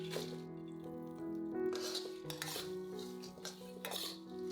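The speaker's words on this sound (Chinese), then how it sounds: "把炸好的豆干倒进来，" Fried tofu is tipped into a wok and stir-fried, with clattering, scraping metal clinks of the spatula against the pan over a low background hum.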